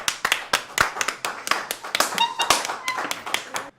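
Studio audience clapping at a Jeopardy-style trivia show in a loft, with sharp irregular claps from a small group, fairly close and steady, and a faint voice briefly underneath.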